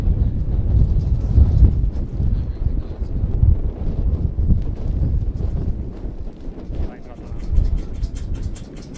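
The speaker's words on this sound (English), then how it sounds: "It is a very windy affair, as you can probably tell from the sound coming through." Strong gusting wind buffets the microphone at an outdoor AFL Europe Champions League semi-final football pitch, a constant loud low rumble with a commentator talking over it.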